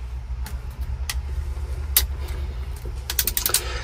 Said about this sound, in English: Crimp it till it clicks